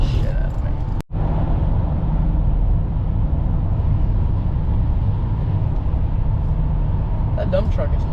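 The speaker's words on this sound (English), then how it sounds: "That dump truck is hauling." Road noise from inside a vehicle driving behind a dump truck on the road, a steady loud broadband rumble with a brief cut near the start and faint voices toward the end.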